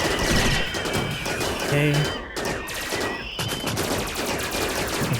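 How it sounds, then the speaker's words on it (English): Gunfire from colonists in RimWorld crackles in dense, overlapping bursts throughout, with a brief spoken word near the start over the shooting. "Oh, you guys can go ahead and fire at will."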